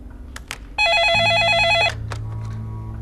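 A telephone rings at home once, a loud, close electronic trill lasting about a second, with a lower steady tone continuing after it.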